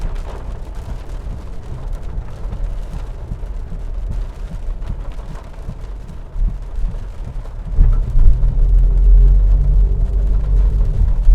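A 2021 Cadillac XT4 Sport in front-wheel-drive Tour mode drives along with a constant low road and engine rumble, heard from inside the cabin. The rumble deepens and grows louder toward the end.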